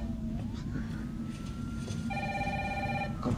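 An in-game telephone rings in a video game, a faint electronic tone gliding upward before a steady warbling ring sounds near the end over a low background hum.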